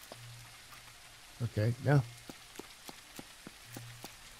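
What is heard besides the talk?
heavy rain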